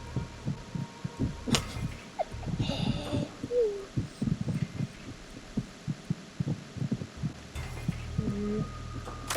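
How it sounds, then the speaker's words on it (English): Several overlapping heartbeats in a video game pulse as low, steady throbs, with faint cooing and hum beneath and occasional other game noises. "I'm hearing, like, probably multiple different heartbeats at once"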